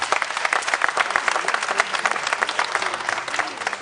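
Dense, steady applause from an audience at a symposium fills the room throughout, many hands clapping at once with no gaps or voices on top.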